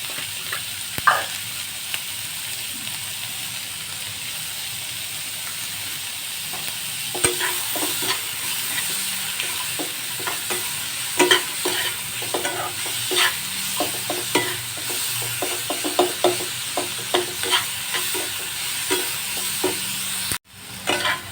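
Chicken roll filling being stir-fried in a pan: a steady sizzle with repeated scraping and stirring clatter that grows busier after the first few seconds, close and alone.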